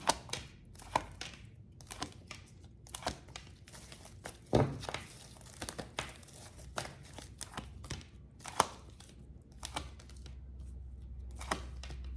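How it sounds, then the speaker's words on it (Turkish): Tarot cards being shuffled and laid out for a reading, giving soft scattered taps, flicks and crinkles of card stock at close range, with no talk. "Şöyle bir kartları bir açalım."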